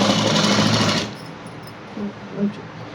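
A sewing machine runs at speed stitching a coat-style dress for about a second, a dense close whirring buzz that stops abruptly, leaving quiet room sound with a few faint clicks.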